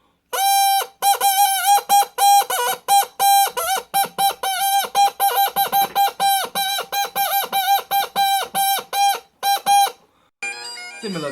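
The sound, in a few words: bagpipe double reed chanter played, duck-call-like honk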